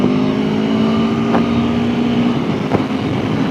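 A 2021 Aprilia Tuono V4 1100 Factory motorcycle accelerating out of a corner, a loud continuous engine drone with a steady pitch and two brief sharp spikes along the way.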